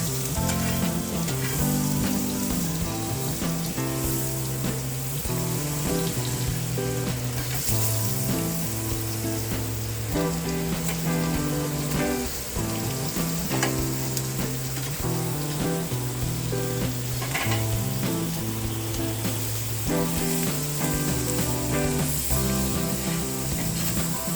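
Onions sizzling on a buttered griddle beside hamburgers outdoors, a loud continuous close frying hiss lasting throughout with steady background music and no talk.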